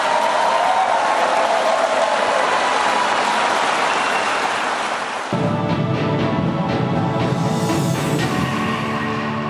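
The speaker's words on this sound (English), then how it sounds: "Let's give them a round of applause." Crowd applause at a political rally in Michigan, honoring the Hatch leadership, dense and loud, with a sharp shift near the middle to a rumbling, tonal roar that carries on to the end.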